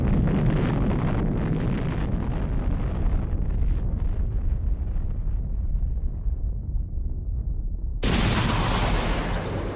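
A deep, roaring atomic bomb explosion rumbles loud and continuous, slowly fading in its upper tones, before a sudden hiss of wind-like noise bursts in near the end.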